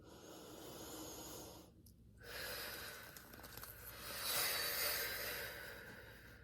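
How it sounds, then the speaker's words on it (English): Slow, deep breaths close to the mic, long airy inhales and exhales rising and falling with a brief pause between them. "you'll be able to hear my breathing to know how to time this"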